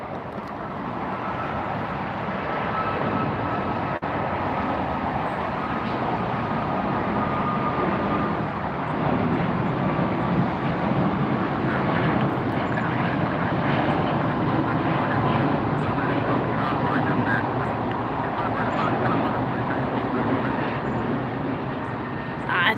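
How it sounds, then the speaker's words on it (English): JetBlue airliner taxiing close by at LAX at night, a steady engine whine and rumble that swells slightly and holds, continuous and fairly near, with faint background traffic and no talk. "JetBlue taxiing in front of us"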